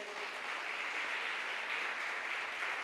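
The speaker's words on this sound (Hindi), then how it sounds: "ताली नहीं बजाएंगे?" Church congregation clapping at a Hindi-English worship service, a dense even wash of applause held at steady level.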